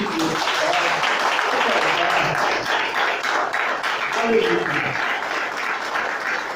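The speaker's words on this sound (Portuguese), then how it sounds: "Pode aplaudir." Applause fills a church service, a steady dense wash of clapping from a congregation that holds at an even level throughout, with murmured voices mixed underneath.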